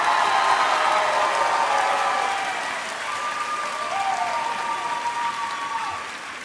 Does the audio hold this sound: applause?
yes